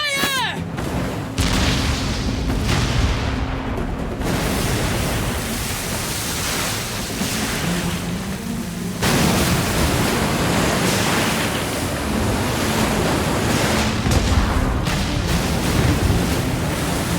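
Heavy ship cannons from the pirate game Like A Dragon: Pirate Yakuza in Hawaii roar in a dense, booming barrage that swells again midway, with a voice speaking over the din.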